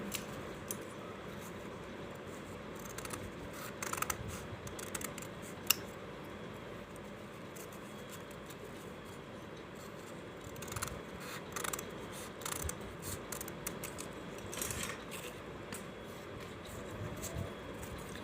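Scissors snip through stiff buckram to cut a V-shaped boat neck, giving soft, irregular crunching cuts close by over a steady room hiss, with no talking.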